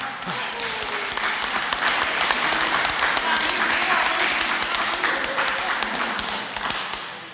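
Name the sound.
audience applause for barbecue winner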